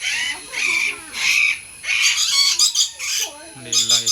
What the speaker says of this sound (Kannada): ಇಲ್ಲೆಲ್ಲ ಎಷ್ಟೊಂದು ಬರ್ಡ್ಸ್ ಇದೆ